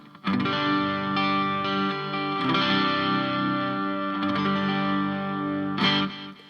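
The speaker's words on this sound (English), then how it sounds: "You probably hear that there's some delay, there's some reverb" Sustained electric guitar chords through a Boss ME-90 ringing out, washed in delay and reverb, with a few strums layering into a continuous shimmering tone.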